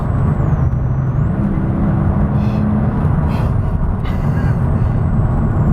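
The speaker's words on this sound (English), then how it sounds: "All right, I'm gonna roll on the throttle again." A Mercedes SL65 AMG Black Series engine pulls hard under throttle, a loud, sustained, deep rumbling roar that builds without pause and with no talking.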